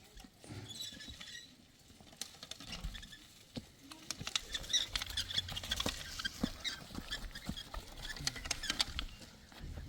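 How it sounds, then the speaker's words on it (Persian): Heavy rain pattering during a storm on an open plain, near a new house being built, with dense, irregular drops tapping throughout and growing a little louder toward the end. "بذار خوب بارون بزنه حالا"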